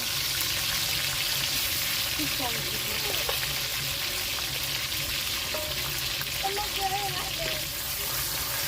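Potatoes fry in oil in a wok, giving a loud, unbroken close sizzle that holds steady throughout, with faint voices murmuring underneath.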